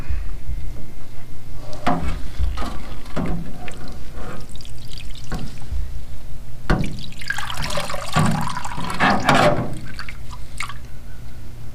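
A rusted Honda XL600R piston is lifted out of ultrasonic cleaner liquid with a run of wet splashes, drips and sloshes, some louder knocks among them and a burst of busier splashing near the end.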